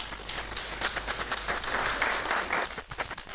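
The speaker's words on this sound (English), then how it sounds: "Please continue to clap." Steady crowd applause, many hands clapping at once in a dense continuous patter, moderately loud throughout.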